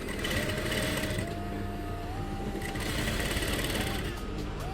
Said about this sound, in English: I'll go ahead and sew. Same process I did for the armhole.